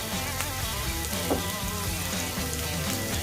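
A steak sears in a hot pan, giving a dense, constant sizzle and crackle that stays loud and even with no voices.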